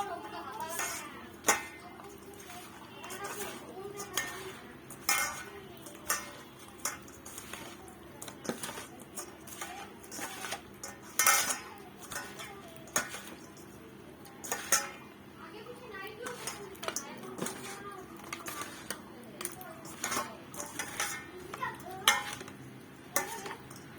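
Fish being mixed with turmeric and salt by hand in a bowl for a mango fish curry, with soft squelching and repeated sharp clinks of the bowl throughout, close and moderately loud.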